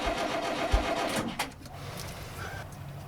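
A narrowboat diesel engine that has sat unused for a month cranks with a sharp thump, catches and settles into a low, uneven chugging idle, moderately close.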